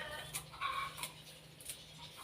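A rooster crows faintly a few times in the distance in an outdoor Thai home kitchen setting, the calls thin and broken against a low steady hum.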